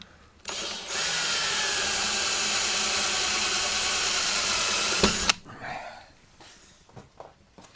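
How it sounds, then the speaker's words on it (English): Power drill boring with a 1/8-inch bit while retrofitting a vent window in a Sprinter van, a loud steady whine for about four seconds that stops abruptly, followed by faint handling noises. "When you start off with a nice new drill bit, it makes a huge difference."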